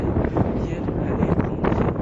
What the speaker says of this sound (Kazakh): Әне жел келіп жатыр.